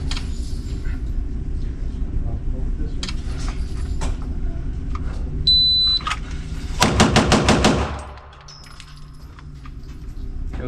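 Rapid string of Glock 34 Gen5 pistol shots with factory ammunition at 7 yards, iron sights, about nine sharp loud cracks packed into roughly a second, with quieter room noise and clatter before and after.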